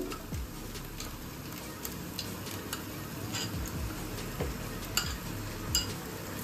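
Spice mix tipped into onion, ginger and garlic frying in oil, with soft sizzling under scattered light clinks and scrapes of a spoon against the pan, fairly quiet and close.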